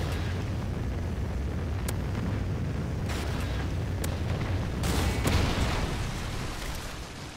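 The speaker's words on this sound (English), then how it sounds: "A friendly Trinity rocket inbound." A Trinity rocket strike in a video game: a continuous roaring, rumbling explosion wash with a few sharp cracks and a swelling blast midway, loud and sustained throughout.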